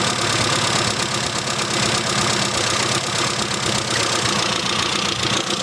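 Car engine runs loud and close while being revved to around 2,000 and 3,000 RPM during ignition timing adjustment, giving a continuous, rough, rattling mechanical drone.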